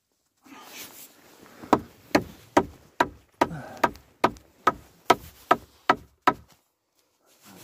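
A hammer taps on wood while a small house is being built, about a dozen sharp, evenly spaced knocks, close and loud with brief decays, after some quiet rustling at the start.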